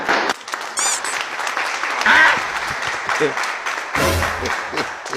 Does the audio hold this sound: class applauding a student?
yes